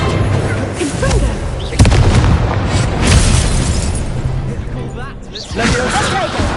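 A Confringo fire spell goes off in a Hogwarts Legacy duel with loud booming bursts and crackling blasts over busy combat noise, while voices shout throughout.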